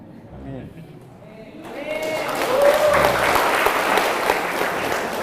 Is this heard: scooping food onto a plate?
no